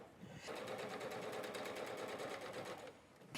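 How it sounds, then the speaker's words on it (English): A sewing machine stitches along a marked line on a quilt-as-you-go rotary cutter cover. It is a steady, fast mechanical whir with a rapid needle chatter that starts, runs evenly for about three seconds, then stops. "I'm just going to stitch along this line"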